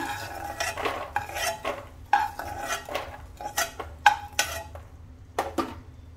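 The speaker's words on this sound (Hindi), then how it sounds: "मखाने भी हमारे रोस्ट हो चुके हैं इन्हें भी निकाल लेते हैं इस सेम प्लेट में निकाल रही हूँ" Roasted fox nuts (makhana) are scooped out of a pan onto a plate with a metal spoon, producing irregular close clinks, scrapes and light rattling taps spaced through the clip.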